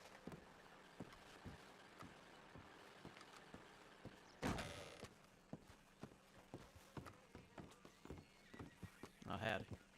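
Horse hooves clip-clopping in a steady walking rhythm, with a loud burst near the middle and a whinny-like cry toward the end, while people talk over it.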